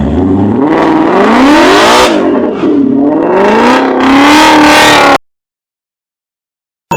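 A Shelby car engine revs hard as the gas is pushed, the pitch rising and falling in several surging pulls, loud and close, before cutting off abruptly into silence.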